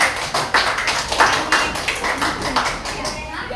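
Students in a classroom clap for a group called Anggrek, an uneven scatter of hand claps with sharp individual taps rising and falling over a few seconds, with voices mixed in.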